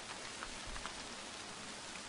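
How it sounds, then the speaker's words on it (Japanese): Heavy rain pours down in a dense, steady hiss of large drops striking surfaces, unbroken and fairly quiet, with no voices present. "大粒の雨が降り注いだ。"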